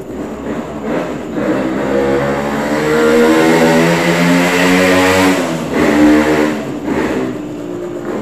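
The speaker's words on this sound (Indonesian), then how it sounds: "Itu ada bising suara motor, bising sekali." A loud, droning motorcycle engine roars steadily nearby, swelling and fading slightly in a harmonic whine, with no voices.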